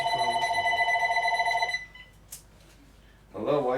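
A phone rings with a bright electronic tone for nearly two seconds, stops, then a voice starts speaking after a short quiet pause.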